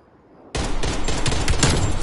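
Rapid automatic gunfire from a Type 63 rifle in Call of Duty, starting abruptly after a quiet half-second and continuing as a loud, dense burst of close shots to the end.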